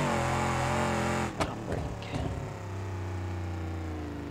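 Modified minivan in the BeamNG driving game, fitted with race front tyres, a locked differential and a huge exhaust, its engine droning loud and steady, then briefly revving with sharp gear changes before settling back into a sustained close-up hum.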